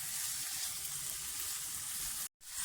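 Chicken fajita rice ingredients frying in a pan give a loud, continuous, close-up sizzle, broken by a brief moment of silence just before the end.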